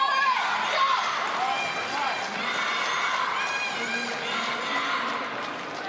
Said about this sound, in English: You can hear some of the crowd here.